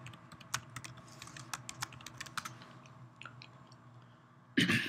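Typing on a computer keyboard, with a quick irregular run of sharp key clicks, fairly close and quiet, ending in a louder clatter.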